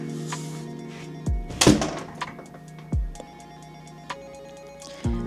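An apartment door in a small Brooklyn studio opens and closes, giving a few close, sharp thunks and a clattering knock among light room noise, with tonal beeps in the background.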